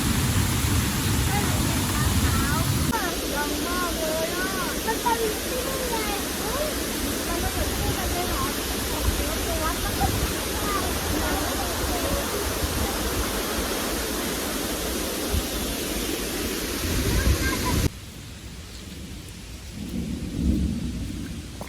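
Steady roaring rush of the Heo Suwat waterfall at Khao Yai with rain falling, loud and continuous, with heavy rain-like hiss; it drops suddenly near the end.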